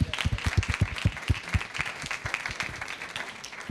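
An audience applauds a campus club called Distinguished Gentlemen after their performance, a brisk patter of clapping from a small crowd that gradually thins out.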